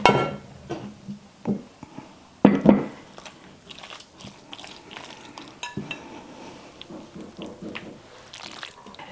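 A cheesy potato casserole mixture is scooped and dumped into a sprayed baking dish, giving a few loud wet clunks and scrapes at the start, then softer utensil scrapes, clinks and squelches.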